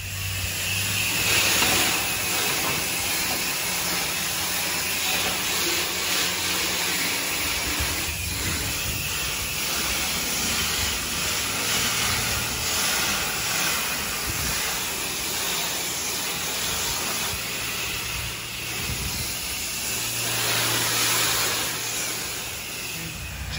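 A pressure washer sprays a rinse across a filthy metal building, giving a steady, loud, continuous hiss and rush that holds for the whole stretch with slight swells and no pauses.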